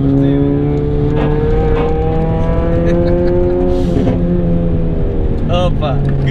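A Nissan 100NX driving a winding mountain road, its engine note rising and falling steadily through the bends, loud and close, with a voice speaking over it.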